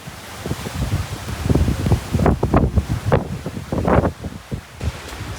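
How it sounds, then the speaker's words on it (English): Strong wind gusts outdoors after a hurricane roar and rustle through oak tree branches, loud and close with buffeting on the microphone, rising and falling in waves with no talk. "Getting a little windy, Hannah?"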